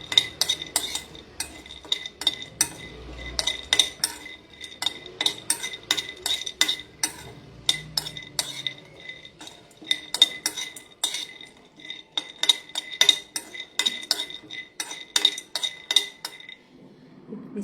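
Pistachios dry-frying in a pan, stirred with a metal utensil that scrapes and clinks against the pan in a quick, irregular rhythm, close and fairly sharp, with no speech.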